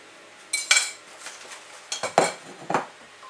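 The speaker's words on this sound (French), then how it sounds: "je mélange bien pour bien racler tout l'agar agar" A utensil scrapes and clinks against a bowl while mango is mixed with agar agar for a vegan mousse, giving several short, close scraping strokes spread across a few seconds.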